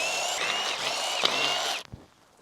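A ratchet or power driver whirs steadily while removing bolts from a compressor bracket on a Subaru EZ30 engine during teardown, then stops abruptly with a couple of soft clicks; close-up and fairly quiet.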